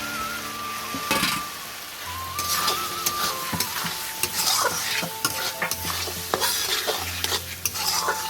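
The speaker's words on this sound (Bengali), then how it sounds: "এবার ছোলাগুলো দিয়ে ভালো করে আমি একটু কষে নেবো।" Chickpeas stir-fried in a pan with a light sprinkle of cumin powder, a spoon scraping and clattering through them over a steady close sizzle, with no talking.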